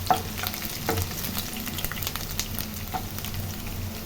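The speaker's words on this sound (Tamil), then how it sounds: "இப்போங்க இஞ்சி பூண்டு நல்லா வதவிச்சு" Ginger and garlic sizzle steadily in hot oil in a pan, with a continuous fry hiss and a few soft stirring scrapes. No voices are heard.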